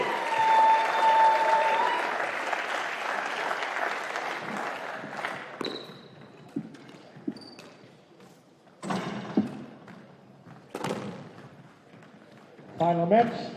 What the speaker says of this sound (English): Big round of applause for Thimi